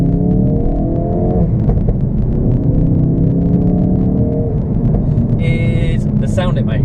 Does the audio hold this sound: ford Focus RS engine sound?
yes